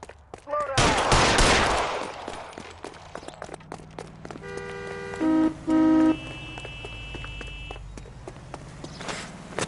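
Gunfire in the crime video game LA Noire: a loud burst of shots opens, followed by scattered footsteps and short mechanical beeps and tones, with game-world ambience.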